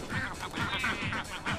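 Cartoon ducks on a barn farm quack in a quick run of nasal calls, fairly faint, with several bursts close together and no talk over them.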